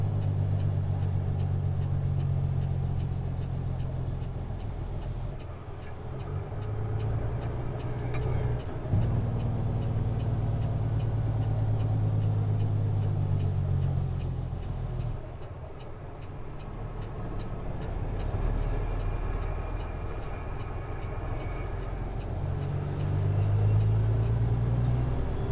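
A semi truck's engine rumbles and rises and falls in waves as the driver works through gears on the road, with brief dips at each shift and occasional ticking under the steady drone.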